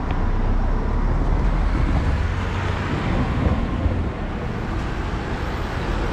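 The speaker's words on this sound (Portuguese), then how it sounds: "Olha esse trem tá vindo, olha esse trem tá vindo, hein?" A train approaches a railway level crossing on the streets of Portimão in the Algarve, Portugal, heard as a steady, loud, broad rumble with a wind-like roar that holds throughout and eases slightly near the end.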